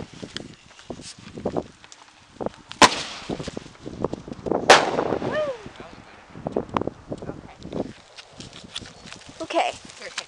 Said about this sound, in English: Okay, firework.